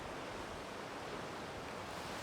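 Ocean waves at Church Bay, Bermuda, on a cloudy, showery day make a constant broadband wash of surf, loud and even throughout, with possible wind across the microphone.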